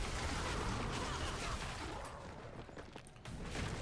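An artillery shrine firing in the Diablo IV action game, a dense barrage of rapid booming blasts that roars loudly and continuously, dips briefly, then surges again.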